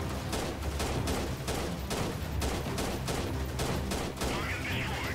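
Dense, continuous gunfire fills a firefight in the Freeman Guerrilla Warfare game, with many overlapping shots and bursts at moderate distance and someone talking faintly over it.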